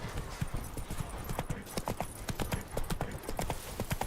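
Hooves of Roach, a horse in The Witcher 3, clip-clop at a steady walking rhythm, close and clear over a low game ambience for the whole stretch.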